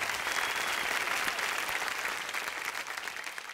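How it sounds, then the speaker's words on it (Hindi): Loud, dense applause from a large audience at the IBFA 2023 awards show in Dubai, continuous clapping that holds steady throughout. "एक बार जोरदार तालियां।"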